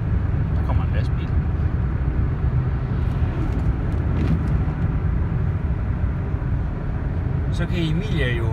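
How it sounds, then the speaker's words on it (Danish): A truck passes on the road outside a moving Dodge Ram pickup, its rumble blending into the loud, steady low road and engine drone heard from inside the cab. "der kommer en lastbil."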